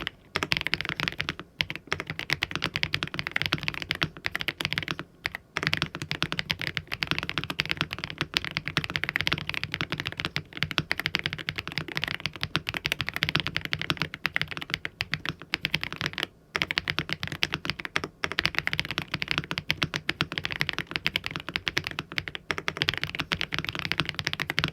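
Fast, continuous typing on an affordable mechanical keyboard, dense close clacks of keys and spacebar running without a break for the whole stretch, with brief pauses and no voices.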